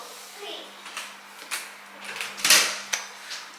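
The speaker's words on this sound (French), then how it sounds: "Je vais fermer la porte du coup hein." A home door is pushed shut in a couple of soft knocks and thuds. Quiet background sounds and a louder bump come near the end, with no clear talk.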